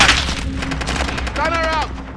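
Rapid automatic gunfire from a Call of Duty: Modern Warfare match, a dense burst of repeated shots with a rising whine near the end, heard under a player's shouted callouts.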